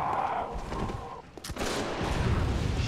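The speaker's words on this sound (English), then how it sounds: "Shotgun in your face!" A shotgun blasting in Bloodborne, with a sudden loud crack landing midway through, set against a dense, roaring wash of combat noise that continues afterward, close and harsh, with no voices.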